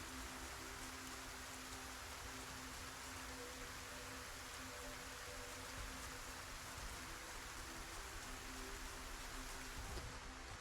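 Steady, even rainfall hiss in the video game Project Zomboid, soft and continuous throughout with no voices or breaks.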